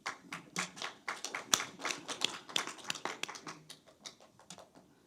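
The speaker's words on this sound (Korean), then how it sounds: "손주가 이렇게 발언하니까 할아버지가 먼저 박수를 치시네요." At a Sinan County town hall meeting, a grandfather claps his hands in a run of sharp, close, fairly regular claps that continue for several seconds and grow slightly sparser toward the end.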